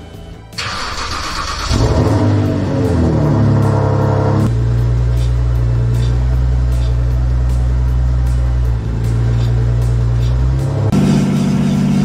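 A car engine runs steadily and loudly while the car is lifted in a garage for a brake test, with a low constant drone and a few shifts in pitch and level.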